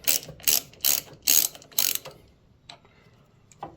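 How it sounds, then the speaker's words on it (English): A socket ratchet backs a bolt out of the head on a Dewalt 735 planer: five quick bursts of rapid metallic clicking, close and distinct, then a quiet pause broken by a couple of faint clicks. "I'm just going to grab my socket and pop that out of there."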